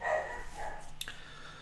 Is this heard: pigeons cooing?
no